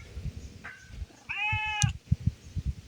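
A pregnant stray cat meows once, a clear mid-pitched call near the middle, amid low thumping handling noises and light background rustle.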